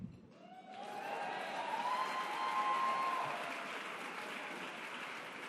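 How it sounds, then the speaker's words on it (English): An audience at a Women in Entertainment speech breaks into clapping, a soft, steady spread of applause that swells after a moment and holds at a moderate level, with a faint voice near the start. "You're going to regret that clap."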